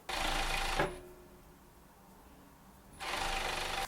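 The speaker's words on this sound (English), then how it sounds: "we're just going to do a 1 centimetre seam allowance and then overlock it" An overlocker sews a T-shirt seam in two loud, fast whirring runs, one at the start and one at the end, separated by a quiet pause.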